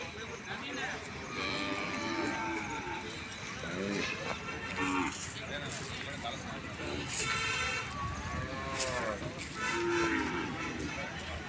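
Cattle lowing at a busy traditional country-breed cattle market, several moos repeating near and far over crowd chatter and steady background bustle.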